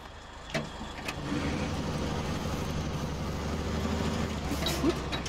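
A heavy truck engine starts up in the off-road driving game SnowRunner during a logging job, settling into a steady low rumble with a brief transient near the start and a hiss toward the end.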